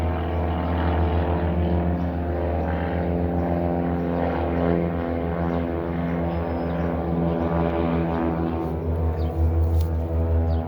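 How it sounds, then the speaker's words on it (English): Propeller planes pass overhead, a loud, steady droning engine hum with a pulsing propeller tone that stays strong for the whole stretch and swells slightly toward the end. "I got a couple planes passing by."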